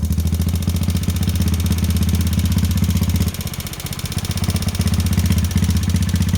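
A motorcycle engine idles close by after being restarted following an engine-oil additive treatment, a steady loud putter with a fast rhythmic tick and a brief dip in level partway through, no voices.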